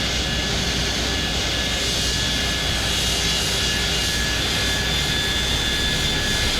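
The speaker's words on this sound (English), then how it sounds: "Start engine 1." Engine number 1 of a FedEx Boeing 727 jet spooling up during start, a loud continuous whine and roar with steady tonal hum throughout, heard close with no talking.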